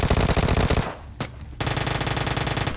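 Rapid bursts of automatic gunfire from the game PUBG Lite, loud and close, a dense rattling spray that breaks off briefly with one sharp crack before the volley resumes.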